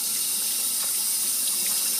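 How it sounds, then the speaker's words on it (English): Tap water runs in a sink while a screen-printing screen is rinsed, a steady hissing spray with faint splashes as the water strikes the mesh, close and constant. "when you're washing this, please don't wash it like this or you'll spray water all over yourself"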